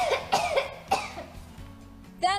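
Several sharp coughs into a cloth mask in quick succession, with a short pause partway through and one final abrupt cough at the end; close and fairly loud.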